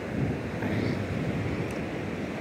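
Wind blowing offshore from the land across Rosarito Beach, Mexico, on a cold windy day, a steady broadband rush buffeting the microphone with surf faintly beneath, continuous and fairly loud with no talk.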